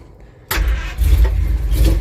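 A Simca Marmon 4x4 engine cranks without catching after a moment of quiet, giving a loud, close, steady churning low rumble.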